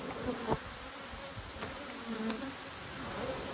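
Honey bees buzz steadily around open hives during a late-season inspection in cool, windy weather, a continuous close drone with individual bees passing near the listener.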